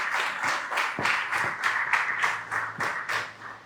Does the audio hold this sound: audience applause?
yes